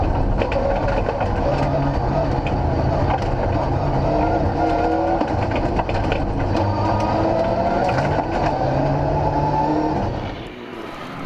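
A Mitsubishi Evo rally car flat out on a stage of the Snowman Rally, its engine droning loud and steady with rising and falling revs for about ten seconds, then dropping away abruptly at the end.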